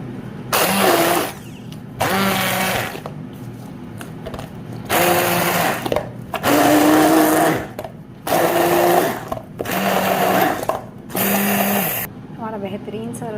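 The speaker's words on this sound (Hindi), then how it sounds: "अब इसको हम हैंड ब्लेंडर से ब्लेंड कर लें।" A hand blender whirs through raita with coriander and green and dried red chillies, running in about six loud bursts of one or two seconds each, separated by short pauses.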